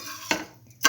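Rice stirred into a mint, okra and potato mixture in a pressure cooker pot: a soft scraping stir followed by a sharper clink of the spoon against the pot near the end, with no talk.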